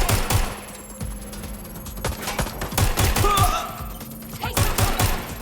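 Gunfire in Watch Dogs Legion: several sharp bursts of rapid shots in short clusters, moderately loud against a quieter game background, with brief pauses between volleys.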